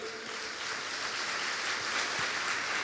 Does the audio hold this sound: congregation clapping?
yes